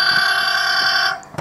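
A toy vehicle's alarm sounds a steady, loud electronic tone for about a second, stops abruptly, and is followed by a short click.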